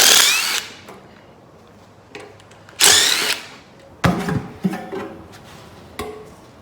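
A power tool whirs in short bursts on the oil pan bolts of a Ford 400 engine in a garage, loud and close. Several separate spins are broken by metallic clunks and rattles.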